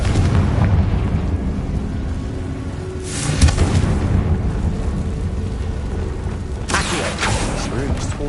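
The Confringo blasting spell goes off in Hogwarts Legacy, with two loud explosive bursts that crackle and boom over a dense, continuous rumble of game noise and music.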